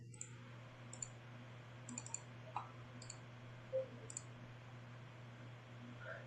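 A few sparse, soft computer mouse clicks on a link, near and faint over a low steady hum, with no talk.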